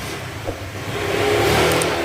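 A repaired motorcycle engine, formerly making a cricket-like noise, revs steadily with a rising, smooth mid-pitched whir, close and continuous with no talk.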